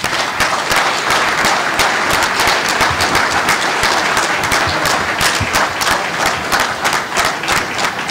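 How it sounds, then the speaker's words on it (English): A convention audience applauding loudly and steadily, dense clapping from many hands throughout with no talking. "Audience, let's please give them a round of applause."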